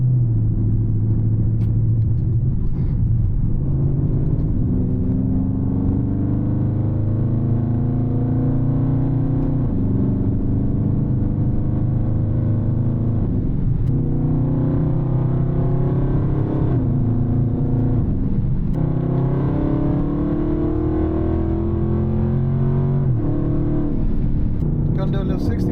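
A Dodge Charger Scat Pack rumbles steadily while driving, its deep engine note loud and continuous inside the cabin, rising and falling with throttle through the run.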